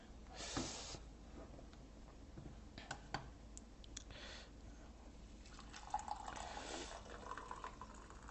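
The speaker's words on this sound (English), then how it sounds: "let me pour this coffee" Coffee is poured into a cup, a faint, quiet trickle of liquid with a few small clicks and knocks of the cup and pot, with no talking.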